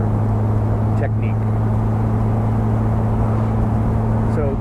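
A 1960 Austin-Healey Bugeye Sprite in original spec drones along at about 60 mph, its engine and road roar loud and steady from inside the car with a low constant hum throughout.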